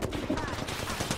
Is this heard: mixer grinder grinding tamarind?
no